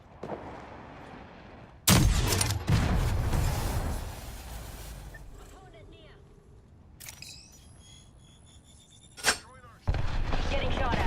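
Gunfire in the game Hunt comes in several loud, sharp bursts with short crackling shots and echoing tails, separated by quieter stretches of ambient game sound.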